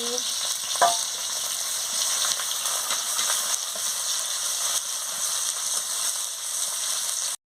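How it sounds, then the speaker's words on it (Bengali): Chopped onions frying in a pan of oil with cumin, a steady moderate sizzle with occasional stirring scrapes and a brief clank near the start. "এবারে পেঁয়াজ কুচি দিয়ে দিচ্ছি, দিয়ে ভালো করে ভেজে নিচ্ছি"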